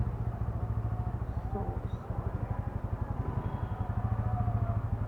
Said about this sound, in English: traffic is starting from here, and I think it will go half a kilometer.